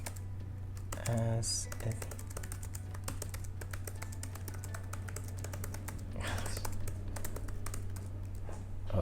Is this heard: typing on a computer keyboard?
yes